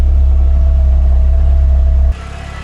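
A car engine drones loud and close with a deep, steady rumbling hum while an odd noise comes from the gearbox in fifth gear. The hum drops abruptly to a lower, quieter tone near the end.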